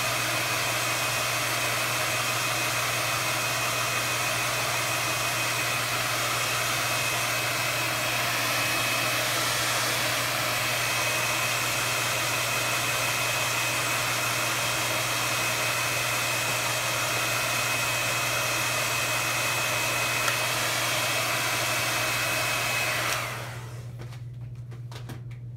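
A hair dryer runs loud and steady, drying a collage on canvas for about twenty-three seconds before cutting off near the end.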